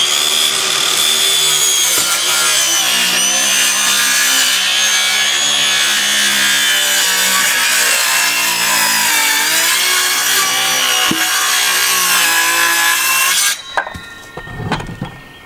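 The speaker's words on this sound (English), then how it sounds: "A little plunge cut here." A saw plunge-cutting into a board during a treehouse build, one continuous loud rasping cut lasting most of the clip, then stopping abruptly with a few brief knocks and rustles.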